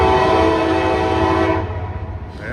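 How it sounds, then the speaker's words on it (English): Freight train M204 with auto racks and mixed freight, its horn sounding loud and sustained with layered tones over a rumbling engine and rolling cars, then the horn cutting off as the rumble continues. "we got M204 coming up. He will be auto racks and mixed freight."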